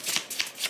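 Tarot cards being shuffled, three quick riffling bursts of card flicks in a close, quiet room.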